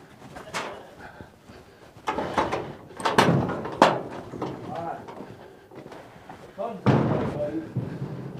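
A barn door on a sheep pen bangs and slides open and shut, giving a few loud knocks and thuds close by while people talk over it.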